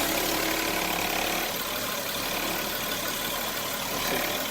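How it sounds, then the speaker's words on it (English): Radiator cooling fans on a 2008 Audi Q7 run after reinstallation. A steady, loud broadband whoosh with no pauses is heard up close. It eases slightly midway and then holds. "turned it on, all fans are running."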